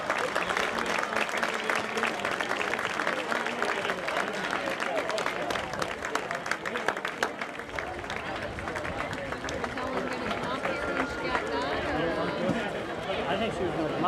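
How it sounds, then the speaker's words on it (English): A crowd at a high school graduation applauds the students, sustained dense clapping running steadily throughout, moderately loud with faint crowd murmur mixed in. "please give these students a generous round of applause for a great 4 years"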